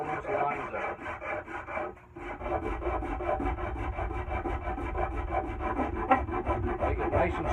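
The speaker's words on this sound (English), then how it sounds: "I'll take my Nicholson rasp, wood rasp, and I'm going to just smooth those out, all those lines out." A Nicholson wood rasp smooths tool marks off a wooden handle in a shop, a steady close rasping scrape that continues without break, with one brief dip partway through and no talk.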